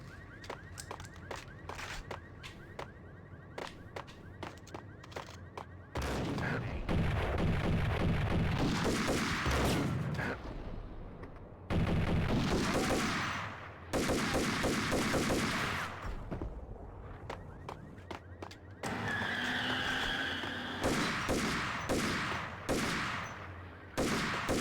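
Gunfire in Max Payne as shots are aimed at padlocks: sharp volleys of loud cracks come in bursts separated by quieter stretches with faint background game sound, no speech.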